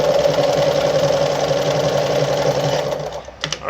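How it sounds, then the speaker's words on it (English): A Pfaff 130-115 sewing machine stitches steadily with its needle set to the far right position, a continuous close mechanical whir with rapid rhythmic clatter that slows and stops near the end. "So I'm sewing all the way to right now."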